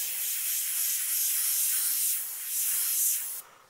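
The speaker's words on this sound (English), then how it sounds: "spray a little bit of paint just to get the lighter shade" A steady airbrush hiss sprays continuously with slight swells in strength, then cuts off abruptly near the end.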